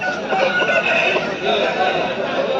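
Hens clucking amid a busy Sunday market at Pileru, where poultry is sold, with steady crowd chatter and bird calls filling the whole stretch, fairly loud and dense.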